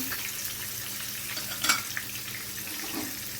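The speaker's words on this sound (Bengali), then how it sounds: "যতক্ষণে মাছগুলো ভাজা হচ্ছে" Pomfret fish frying in a pan, giving an even close sizzle with a brief sharper crackle midway and no talking.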